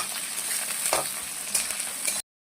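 Bay leaf, onion and panch phoron sizzle steadily in hot oil in a pan, a close, continuous frying hiss with a couple of brief stirring scrapes, then sudden silence.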